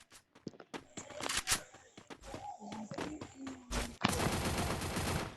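Gunfire in a CS shooting video game, with sharp single shots and short bursts scattered through the clip, then a sustained rapid volley at the end, fairly faint, with brief voiced tones mixed in.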